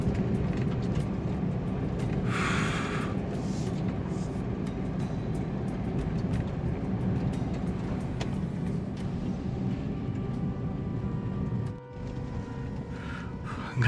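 A car speeding along a dark road at night, its engine and tyre roar steady and close inside the cabin, with a brief dip near the end and no clear talk.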